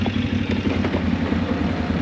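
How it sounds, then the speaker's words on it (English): A newly acquired farm tractor's engine running steadily nearby, a loud continuous low rumbling idle with a slight clattering texture and no talk. "Got the tractor running"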